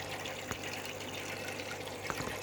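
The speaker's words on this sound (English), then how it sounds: "Powerhead is pumping up water" An aquarium powerhead pumps water through a fish fry tank, giving a steady, fairly quiet rush of moving water over a low hum, with a couple of brief splashy spikes.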